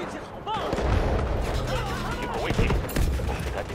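Gunfire in the mobile shooter Delta Force Mobile: rapid bursts of shots and booms that keep going across the clip, mixed with a player talking over the action.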